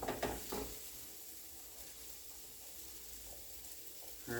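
One medium onion frying in a tablespoon and a half of oil in a pan, giving a steady, soft sizzle and hiss throughout, close but fairly quiet, with a brief clatter at the start and end.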